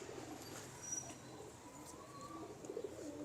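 Pigeons coo softly in a loft, with faint, scattered calls over a quiet background hiss.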